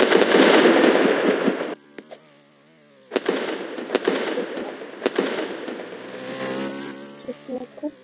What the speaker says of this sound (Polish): są te fajerwerki.